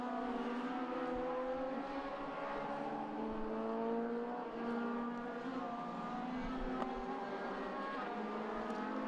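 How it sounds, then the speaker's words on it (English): A Legends race car powered by a motorbike engine races past on a circuit, a steady, fairly distant high-pitched engine whine with layered tones that shift slightly as it goes by. "Here comes Barrable, distinctive sound of the motorbike engine Legends."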